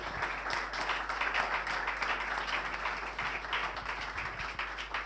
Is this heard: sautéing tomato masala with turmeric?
no